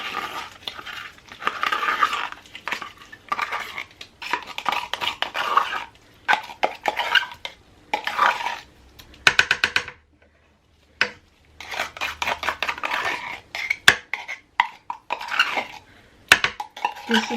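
Tomato paste being added and stirred into a pot of three bean chili, repeated clanking and scraping of a spoon against the pot in uneven bursts with short pauses.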